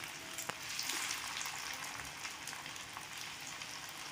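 Chicken cutlets shallow-fry in oil on a tawa, giving a steady, close crackling sizzle that continues throughout with small pops.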